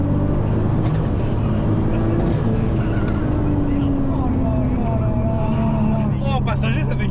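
A 1200 hp VW Golf R32 pulls hard under full throttle, its engine a loud, sustained drone with rising tones as the revs build, heard from inside the car with steady road roar underneath.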